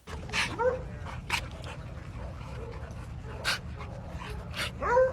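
A dog pants close by in quick breathy bursts, with a few short whimpering squeaks between them and faint background hum.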